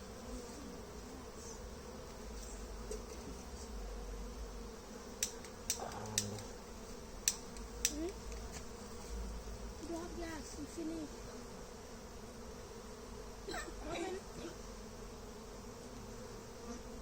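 Honey bees drone in a constant buzz around an open hive while nucs are moved into brood boxes, with scattered sharp clicks and handling noises.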